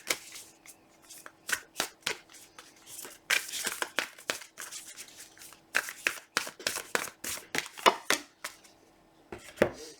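Oracle cards shuffled by hand in a steady run of crisp riffling bursts and soft slaps, close and fairly loud, with no talking over the ten seconds.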